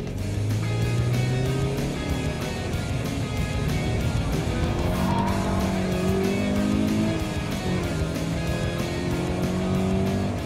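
Subaru BRZ driven hard on a race track, its tires squealing through a slide as the engine drones steadily underneath, loud and continuous from inside or near the car throughout.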